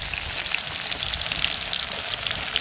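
Pieces of food fry in a pan of hot oil with a close, continuous crackling sizzle and fine popping bursts throughout, and no one speaks.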